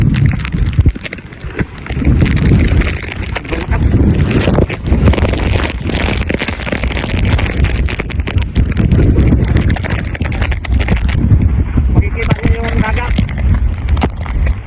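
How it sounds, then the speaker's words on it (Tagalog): Strong typhoon wind in the Bicol region blows hard and steadily against the microphone, a loud, continuous rumbling roar with gusts throughout, and a voice speaks intermittently underneath. "Sobrang lakas pa ng hangin."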